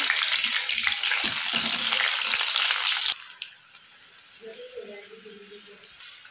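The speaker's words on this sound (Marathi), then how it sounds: "छान असा लाल कलर येईपर्यंत आपल्याला सोयाबीनला तळून घ्यायचं आहे।" Soybean chunks deep frying in hot oil give a loud, close, hissing sizzle that stops abruptly halfway, leaving quiet room sound with someone speaking softly and a few small clinks.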